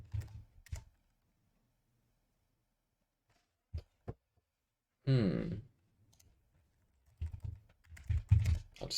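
A few quiet, scattered key clicks from a computer keyboard as a password is typed, separated by silence and broken by a brief voice partway through.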